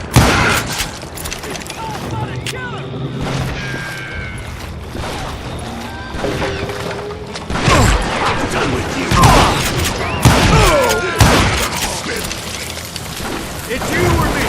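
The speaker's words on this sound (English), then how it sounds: "It was then that a fusillade of bullets come raining down from on high." A gunfire volley in the video game Call of Juarez Gunslinger, a dense barrage of overlapping shots and booms, loud and continuous, with voices talking at times.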